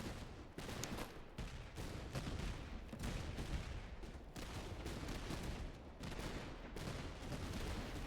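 Massed gunfire from troops in the game Master of Command, a dense, continuous crackle of musket volleys rolling on without pause, fairly distant and steady throughout.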